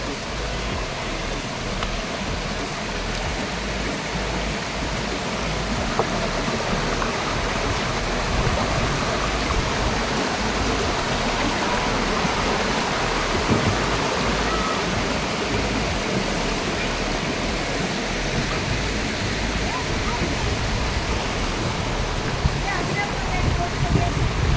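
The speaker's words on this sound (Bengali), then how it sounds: "জলের কি আওয়াজ!" Dudhsagar waterfall in Goa roars as a constant, dense wash of falling water, loud and unbroken throughout, with voices talking faintly over it.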